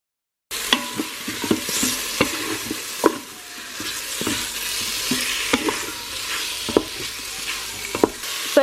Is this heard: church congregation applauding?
no